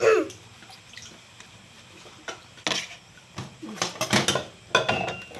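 Dishes, plates and pans being washed by hand, with scattered clinks and clatters of crockery and cutlery bunched toward the end over a low background of running water, close by and with no talking.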